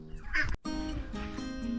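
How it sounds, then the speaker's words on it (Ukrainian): Ducks quacking nearby in a short burst, a few raspy calls layered together, followed by steady honking and chatter from the flock. "І качкам чим більше місця і водички, то тим швидше вони ростуть."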